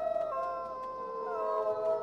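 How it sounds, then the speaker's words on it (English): Wolves howling in the video game WolfQuest, long sustained overlapping howls that rise and hold, heard alone at moderate volume. "I hear lots of wolves howling."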